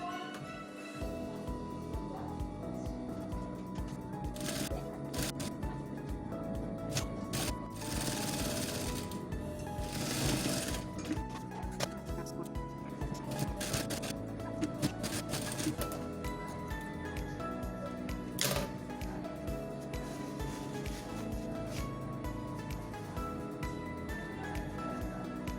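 Sewing machine stitching the hem of an open jacket, a steady continuous mechanical whir running throughout, close and fairly loud with no talk.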